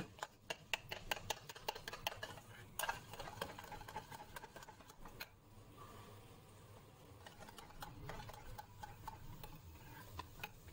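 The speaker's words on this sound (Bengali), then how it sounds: "দিয়ে এটাকে খুব ভালো করে আমি এখন ফেটে নেব" Moong dal batter with yogurt is beaten briskly in a bowl, producing quick, rapid ticking taps of the utensil against the vessel, faint and close, which later settle into a softer, steadier whisking.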